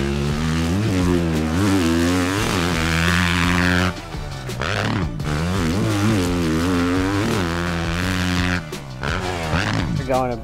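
A 450 motocross motorcycle engine revving and rising in pitch as it rides and jumps on a track, loud and close, with throttle swells and dips.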